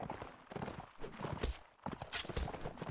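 Horse hooves clip-clop in quick, uneven beats during a multiplayer video game match, with sharp percussive hits and a few crackling shot-like bursts mixed in.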